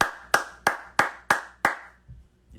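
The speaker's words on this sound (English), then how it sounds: "Clap for you, my friend." Six sharp, evenly spaced hand claps ring out close and clear at a steady pace, followed by a brief quiet tail.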